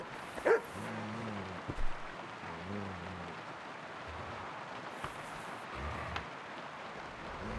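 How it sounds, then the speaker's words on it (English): A dog in the medieval game Kingdom Come: Deliverance II gives a few soft, distant barks and yips, spaced out over a quiet ambient bed with faint rain-like hiss. "Hey, doggy."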